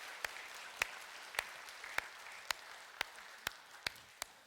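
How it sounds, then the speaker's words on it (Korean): A church congregation claps for its choir after a Sunday service song: quiet, evenly spaced sharp claps in a steady rhythm over a soft room hush. "우리 박수로 한번 격려해 주시기 바랍니다."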